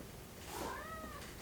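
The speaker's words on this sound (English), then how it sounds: "The cat." A house cat gives a single drawn-out meow, rising then falling, faint against a quiet room's background hiss.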